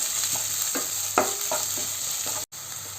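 Onions with ginger and garlic sizzle in a pan while a spatula stirs them, producing a run of rhythmic scraping strokes over a steady frying hiss, with a brief dropout near the end; no speech.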